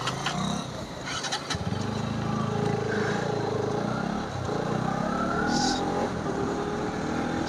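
A Yamaha R15M motorcycle and other bikes idle and rev as riders set off outdoors, with rising engine tones over steady traffic rumble.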